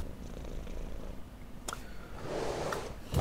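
A cat purring close by, a soft continuous rumbling murmur with a brief rustle partway through and a slight swell toward the end.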